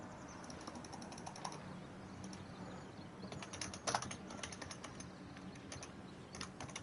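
Quiet clicking of a computer keyboard being typed on, a faint irregular patter of keystrokes with a few sharper taps, heard alone without voices.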